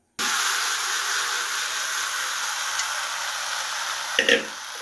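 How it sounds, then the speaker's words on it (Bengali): Goat meat cooking in a pot for biryani, a steady close sizzle that starts suddenly and runs on evenly, with a brief clink or stir near the end. "এখানে আমার এই যে খাসির গোশত আমি একটু রান্না করে নিচ্ছি।"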